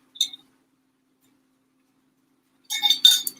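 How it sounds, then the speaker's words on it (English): Glassware clinks twice while someone takes a drink of water: a single bright clink, a long silence, then a louder cluster of clinks and knocks near the end, close and clear. "I'm gonna take a swig of water"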